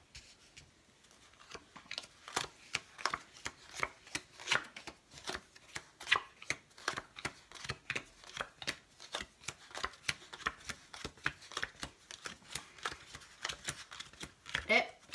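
Playing cards are dealt one by one into five piles of five cards each for a card trick, a steady run of soft, crisp flicks and slaps close by, with someone speaking French over them.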